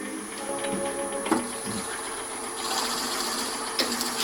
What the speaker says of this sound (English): Slowly advance the drill bit into the wood.